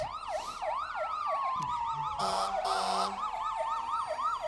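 Fire engine siren wailing in repeated rising and falling sweeps from a passing Engine 4 in a nighttime Christmas parade of lights, loud and steady, with a brief burst of horn-like blasts midway.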